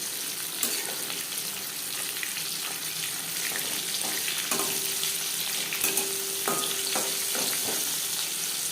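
Chicken popcorn pieces fry in hot oil with a dense, crackling sizzle, punctuated by scattered utensil taps and scraping as pieces are moved and lifted, heard close with no speech.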